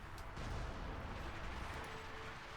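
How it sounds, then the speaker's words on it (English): Heavy artillery fire in a Company of Heroes 2 battle, with dense overlapping low booms and rumbling impacts that form a steady, fairly faint barrage without clear breaks. "artillery just hammering down from both sides"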